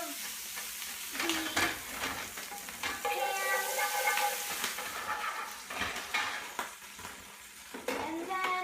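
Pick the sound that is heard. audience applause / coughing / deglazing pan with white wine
deglazing pan with white wine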